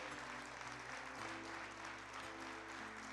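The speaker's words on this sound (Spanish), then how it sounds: "Entonces démosle palmas al Señor, dale palmas a Él." Church congregation clapping for the Lord during a Spanish-language sermon, a steady wash of applause heard quietly over low hum.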